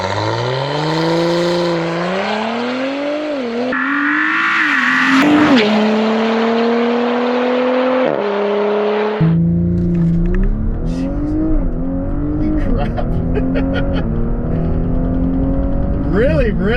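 Audi B9 S4 tuned to Stage 2 full bolt-on on E85 fuel, accelerating hard from inside the cabin: a loud engine note climbs in pitch through several gears, each shift marked by a sudden drop before rising again.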